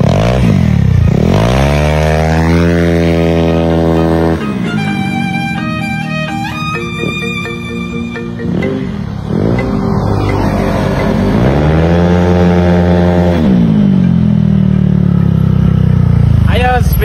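A pit bike engine revs hard in repeated rising and falling bursts, close and loud, with clattering mechanical noise between the revs.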